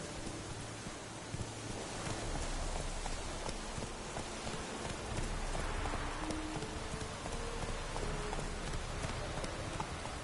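Horse hooves clip-clop in a PS4 video game, a quiet rhythmic patter of steps running under a dense wash of rain-like ambient noise, steady throughout with no clear talking.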